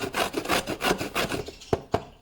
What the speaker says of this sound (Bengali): কিছুটা ঘষে নিয়েছি এরকমভাবে গাজরগুলো